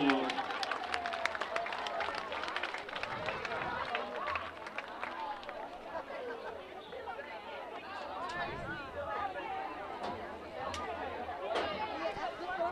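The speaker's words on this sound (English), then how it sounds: "Let's give this young man a big round of applause." A crowd applauds in the stands at a high school football game between Scott City and Portageville after an injured player gets up, with steady distant clapping, cheering and chatter alongside an announcer's voice.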